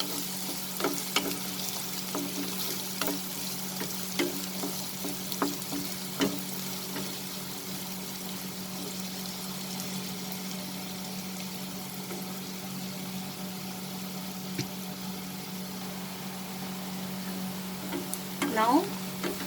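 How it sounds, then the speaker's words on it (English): Long beans sauté in a frying pan, a continuous soft sizzle with scattered clicks and scrapes of stirring, steady and close, alongside a low constant hum. "Now I will saute this. Just for a minute."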